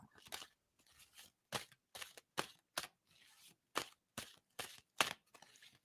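Shuffling by a single person up close: a quiet run of about a dozen short, crisp rustling bursts in an uneven rhythm, with near-silent gaps and no voices.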